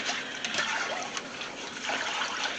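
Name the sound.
hot water running into sink with dishes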